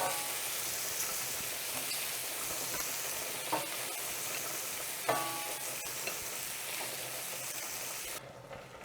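Shrimp sizzling in a hot pan, a continuous close hiss of frying with a few louder pops and stirring scrapes, ending abruptly as the heat drops.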